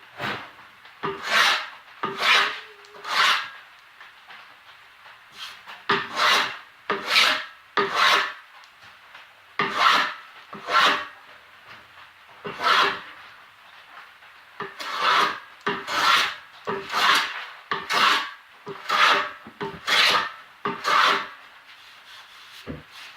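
Old glue being scraped off a wooden push block in a woodworking shop, heard as a long series of short, rhythmic rasping strokes, close and fairly loud, with brief pauses between bursts.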